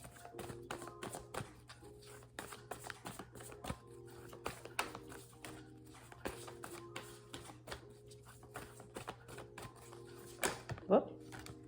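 Cards from a deck used for a pick-a-card reading are shuffled and drawn as soft, scattered taps and flicks over a low steady hum, with a voice speaking quietly.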